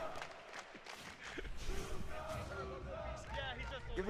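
A dense crowd shouts and cheers together, a loud, continuous roar of many voices with scattered individual yells rising above the din.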